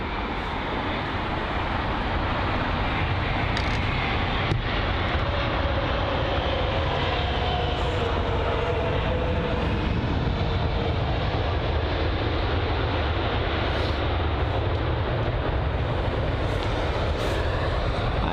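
Boeing 787-9 Dreamliner, registration G-VDIA, arriving at London Heathrow, a steady broadband jet roar that holds loud and even throughout with no voices.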